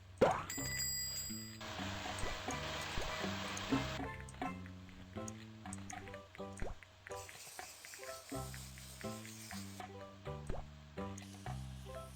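A bright bell-like ding rings out over steady, busy game music in Papa's Freezeria 2, with drip and plop effects scattered through the loop; no voices.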